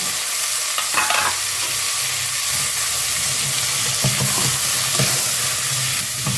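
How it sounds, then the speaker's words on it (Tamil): Tomato and jackfruit seeds sauté in a hot pan for foxtail millet kichadi, with a steady close sizzle and hiss broken by scraping stirs throughout. "நல்லா வதக்கி விடுங்க"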